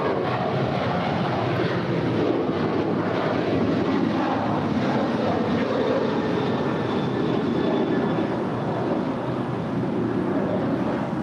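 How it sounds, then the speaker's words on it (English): United Airlines Boeing 737-900ER jet on departure to Houston at LAX: a steady, broad engine roar holds at an even level throughout, with no talk. "That is United Airlines 387 departing to Houston Intercontinental."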